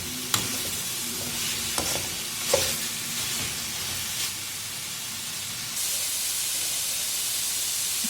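Cauliflower and garlic sizzle steadily in hot oil in a pan, with a few scraping stirs of a spoon early on, then continuous loud frying hiss with no talk.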